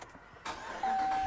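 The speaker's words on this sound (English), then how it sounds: "we'll start the car and see if the battery starts to charge" A car engine starting after a new battery install, a short cranking burst followed by a steady whining tone as it catches, close and moderately loud.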